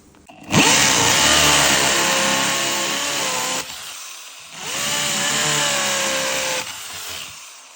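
A hammer drill runs in perforator mode in two sustained bursts, loud and close, with a steady whining motor and a rough hammering rattle, stopping briefly between runs.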